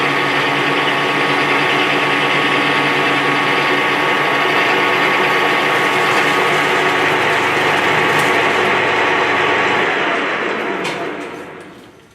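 A worn rear axle wheel bearing on a Holden Commodore gives a steady, dense mechanical chatter, close and loud for about ten seconds, then winds down and fades out at the end.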